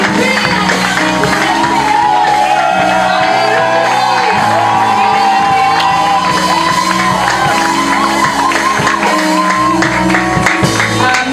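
A loud congregation at a church service cheers and shouts continuously, with whoops and yells rising over a sustained roar of many voices.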